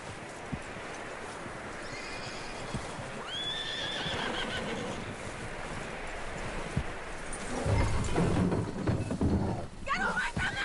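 A horse in Red Dead Redemption 2 whinnies in a rising call, with hooves clip-clopping and rustling around it in a busy outdoor scene.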